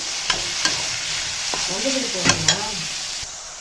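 Salted vegetables for schezwan fried rice sauté in a pan, a steady sizzle punctuated by a few sharp spoon-on-metal clacks as they are mixed, close and clear.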